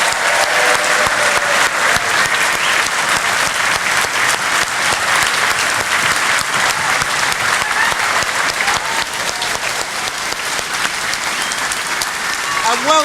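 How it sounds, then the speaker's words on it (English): Sustained loud applause from a crowd at a Brexit Party political rally in Frimley, steady dense clapping throughout, with some faint voices in the mix. "Let's have another round of applause for our fantastic candidates."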